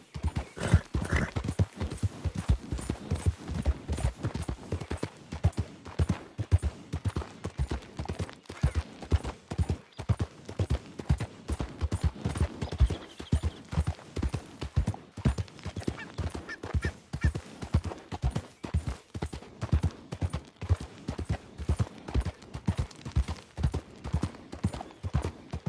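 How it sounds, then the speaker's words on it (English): A horse galloping in Red Dead Redemption 2, with a steady rhythmic stream of close hoofbeats on the ground throughout and a brief whinny near the start. "Giddy up."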